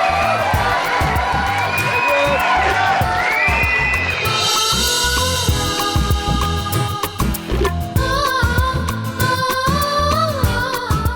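Loud crowd applause and cheering for a woman dancing in jingling ankle bells, with dense clapping, shouts and whoops over background music; individual bell jingles are hard to pick out.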